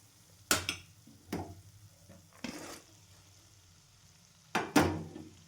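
Bursts of sizzling and frying crackle up as fresh field beans are stirred in spiced masala in a hot pan, oil separating, several separate surges with quieter simmering between.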